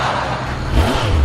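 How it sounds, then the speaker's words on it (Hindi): A motorcycle and a tempo vehicle rev, giving a short, loud, rising engine roar with a low throb, alone without talk. "वो बहुत तेज मोटरसाइकिल चला रहा है"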